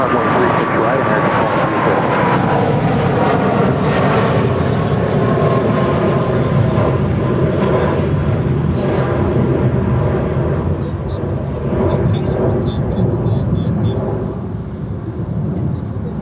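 An airliner takes off from runway 36 right at Dallas Fort Worth International Airport, a loud, continuous roar of jet engines rising and rumbling throughout, with a voice speaking over it.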